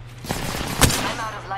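Gunfire in a shooter video game, a short clustered burst of loud, close shots heard over a constant low game hum, with a sharp peak in the middle and the player talking around it.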